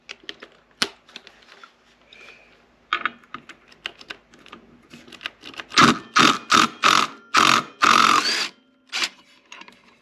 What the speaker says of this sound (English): an electric impact wrench, an impact driver, like I have here